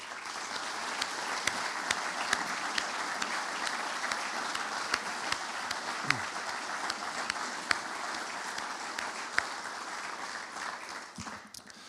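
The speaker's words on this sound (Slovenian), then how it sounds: "prosim za njih en velik aplavz" A hall audience at a formal session of the Tolmin municipal council gives a long, steady round of applause, dense, even clapping sustained for about twelve seconds before it fades.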